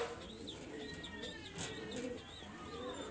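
Pigeons coo in soft, repeated rolling calls, several overlapping phrases close by with a few faint chirps and a brief flutter in the middle.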